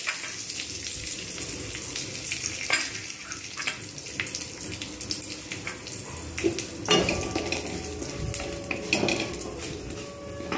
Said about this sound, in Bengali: এতে দিয়ে দিয়েছি তেল, আবার ফের এবার এতে মেথি, জিরে আর শুকনো লঙ্কাটা আমি এখানে ফোড়ন দেবো